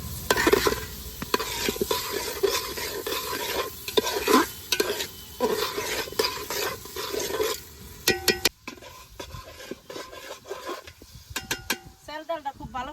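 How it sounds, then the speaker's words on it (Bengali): Washed rice and red lentils are stir-fried in a pot with beef for khichuri: repeated scraping stirs over a frying sizzle, loud and close, then quieter sparse clinks of the utensil. "মাছের মধ্যে চাল ডালটা ভালো করে কষে নিই।"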